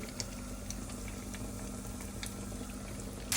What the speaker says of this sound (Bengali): এখন আমি ফ্রাই করতেছি